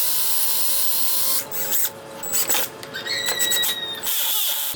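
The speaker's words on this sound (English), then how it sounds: "I'm also going to put screws in from the back." A power drill drives screws from the back through pallet wood to mount a homemade beer bottle opener: a close, steady whining motor drone that shifts in pitch and strains as each screw bites in.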